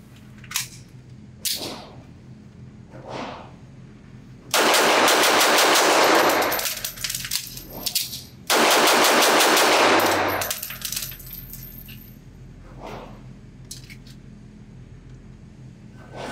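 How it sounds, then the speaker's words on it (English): A Girsan MC 14T .380 pistol fires in quick bursts of rapid shots at a range, with two dense volleys of cracking reports separated by a few single, scattered shots and brief quiet gaps. "shoot the gun as fast as I possibly can, and see what kind of accuracy I can point shooting"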